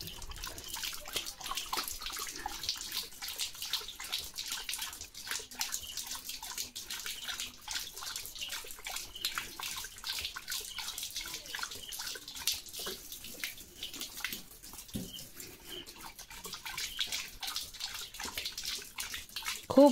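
Water runs steadily from a tap, a faint continuous splashing trickle with small drips throughout while a dog named Leo stands by and drinks.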